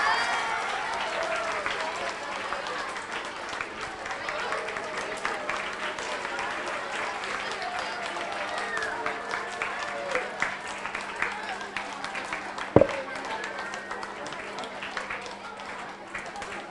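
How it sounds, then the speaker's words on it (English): Sustained applause from the audience at the opening of an inter-school general knowledge quiz, steady and full for most of the stretch with a sharp single knock near the end and faint murmuring underneath. "Big round of applause, please,"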